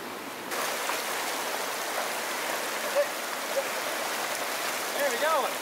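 A river in the Peruvian wilderness rushes steadily in a broad, even wash of flowing water, with faint bird chirps near the end.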